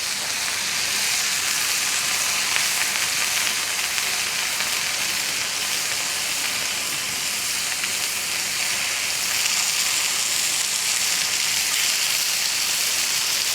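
Meat sears in a very hot pan, producing a loud, steady, dense sizzle that hisses continuously up close without pause.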